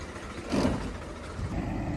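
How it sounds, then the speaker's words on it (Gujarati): Petrol-powered crop sprayer engine running steadily while spraying in a field, a close mid-pitched motor drone that swells briefly partway through, with no talking. "મિત્રો, દવા છાંટવાનું ચાલુ કરી દીધું છે."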